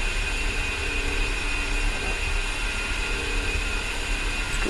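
Steady roaring jet engine whine of an A-10 taxiing across an airport in a flight simulator game, constant and loud throughout, broadband and unbroken with no speech.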